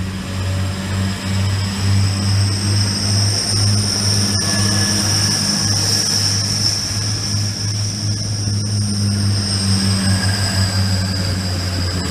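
Class 180 diesel train on the line at Grantham, bound for London King's Cross, heard as a loud, sustained engine drone with a high whine, rumbling steadily nearby for several seconds.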